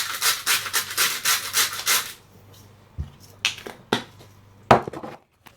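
Salt added to a cottage pie mix: about two seconds of steady rhythmic rasping strokes, close by, followed by a few scattered knocks and clicks of kitchen utensils.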